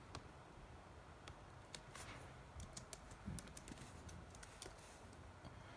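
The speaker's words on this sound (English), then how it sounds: "speaking of this keyboard, because I'm typing, it feels really good to type" Quiet, irregular clicking of keys on an HP HDX-16 laptop keyboard, sparse taps scattered over a steady background hiss, faint and close.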